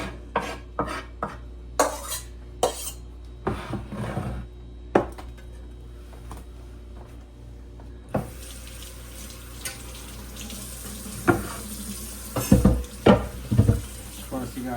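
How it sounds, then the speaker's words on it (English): Tap water runs into a kitchen sink while items are rinsed after mixing kefta kabob meat in a bowl, with clatter and splashing bursts over a steady flow and a faint voice in places. "I like to rinse everything off, get it out of the way."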